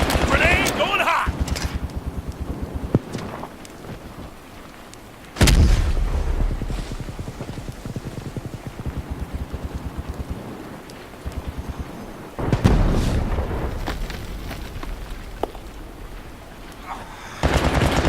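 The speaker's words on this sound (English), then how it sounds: "Grenade going hot." Explosions in the video game World War 3, several loud booming blasts with rumbling tails over continuous noisy battlefield ambience, with voices talking in between.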